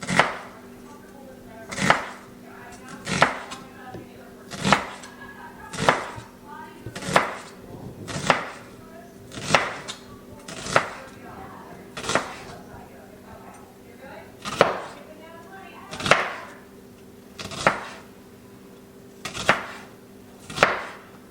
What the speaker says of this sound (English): Now we'll cut up the onion.